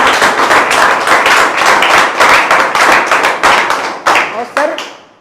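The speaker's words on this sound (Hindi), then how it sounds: "इसके लिए जोरदार तालियां बजाइए भाई" Audience applause at a direct selling network marketing event, a loud dense burst of many hands clapping that continues steadily, then thins into a few separate claps at the end.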